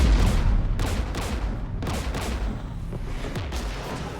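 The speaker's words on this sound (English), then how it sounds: "We're taking fire." Gunfire in the video game Mass Effect 3: loud, close bursts of rapid shots and booming blasts hit in clusters against a rumbling low backdrop, with no voices.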